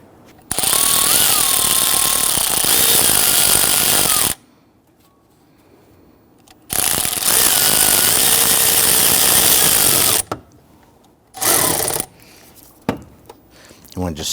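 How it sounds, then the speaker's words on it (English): A powered ratchet drives a 10mm socket onto the air intake tube clamp of a 2011–2014 Kia Sorento. It gives two long, loud whirring bursts of about four seconds each, then a short one, with quiet gaps between. "I'm going to use my 10mm socket, and we're going to secure our air intake tube clamp down below"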